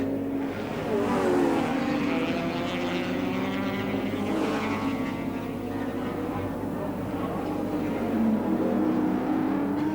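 Allan Moffat's touring race car laps the Oran Park Grand Prix circuit, its engine droning loudly with rising and falling pitch as it passes, under a commentator's voice.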